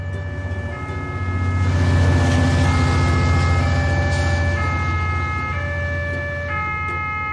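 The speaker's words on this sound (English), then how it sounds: "Police pickup truck." Loud, sustained siren from a police pickup truck, holding steady tones over a dense rumbling roar that swells in the first seconds and stays heavy throughout, with no speech.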